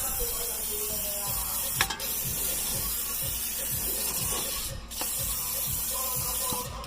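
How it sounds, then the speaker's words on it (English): Brake cleaner sprays onto the engine of a 2015 Nissan Altima in a steady close hiss, broken by short pauses and faint rhythmic ticking from nearby machinery. "So just take some brake cleaner and spray everything up there to get all the oil down."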